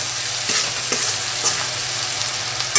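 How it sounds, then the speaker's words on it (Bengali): Onions frying with a spoonful of salt in a pan for prawn bhuna, a steady close sizzle with light stirring scrapes and a few clinks, no talking. "এবার যতক্ষণ পেঁয়াজটা ভাজা হচ্ছে"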